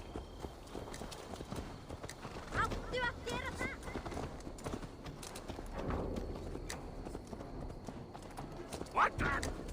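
Horse hooves clip-clop in Assassin's Creed Valhalla as the steed moves along, a steady clatter of footfalls beneath game music and a couple of short bursts of spoken dialogue.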